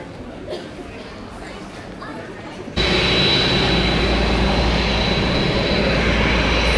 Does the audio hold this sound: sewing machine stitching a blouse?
no